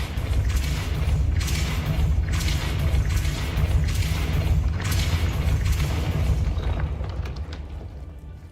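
A Depulso spell cast in a Harry Potter video game: a run of loud, forceful whooshing blasts over a dense rumbling bed, fading toward the end.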